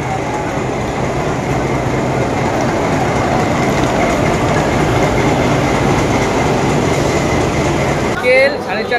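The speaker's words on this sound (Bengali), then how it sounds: "ট্রেন ঢুকছে।" Train pulling into busy Howrah railway station, a steady loud rumble of wheels and carriages with crowd noise throughout, ending in a brief squeal.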